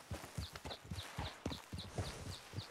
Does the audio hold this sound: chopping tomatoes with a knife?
no